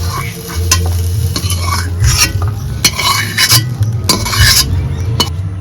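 Vegetables fry in hot oil in a pan for a Bengali mixed vegetable vegetarian dish, with a steady close sizzle broken by repeated scraping and clinking stir strokes of a utensil against the pan.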